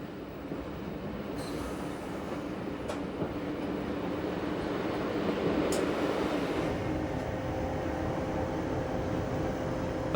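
Bodensee-Toggenburg Railway BT train running near Nesslau, a steady close rolling rumble of wheels on track with faint metallic squeals and a few brief clicks, no voices.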